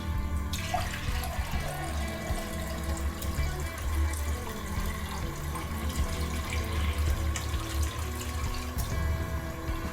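Water runs steadily from a tap into a container to make a salt brine for hot wings, a continuous close splashing flow with no talking.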